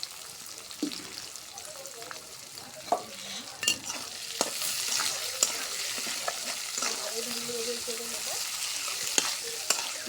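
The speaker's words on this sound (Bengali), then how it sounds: "পেঁয়াজ কুচি দিলাম, কাঁচা মরিচ দিয়ে দিলাম" Chopped onion and green chili frying in a pan, a constant soft sizzle with scattered crackles, pops and occasional stirring scrapes.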